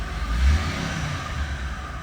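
A 1963 American Rambler 440 convertible with a six-cylinder engine revs briefly, a low rising swell around the first half-second that settles back to a steady, moderately loud engine hum.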